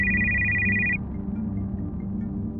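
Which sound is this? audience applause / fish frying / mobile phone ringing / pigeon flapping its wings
mobile phone ringing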